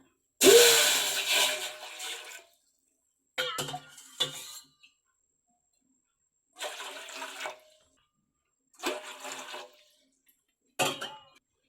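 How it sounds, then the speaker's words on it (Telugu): Water is poured by the cupful into a pot for old-style coconut roti, heard as five separate splashing pours with quiet gaps between them; the first pour is the longest and loudest. "ఈ కప్పుతోనే మూడు కప్పులు నీళ్ళు వేసుకోవాలి"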